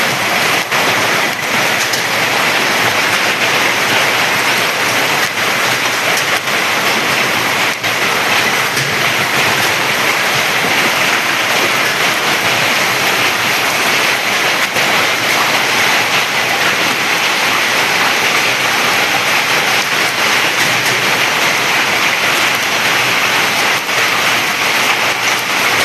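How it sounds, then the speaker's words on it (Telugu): Heavy rain with hail falling in Sangareddy, Telangana, a loud, dense, continuous roar and hiss that stays steady from start to finish without letting up. "సంగారెడ్డిలో వడగండ్ల వాన."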